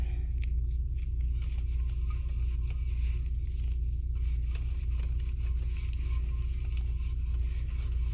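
A stainless tumbler bearing a raised Ozark emblem gets scrubbed in its crevices during stripping: rapid, continuous rubbing and rasping strokes close by over a steady low machine hum, with no voices.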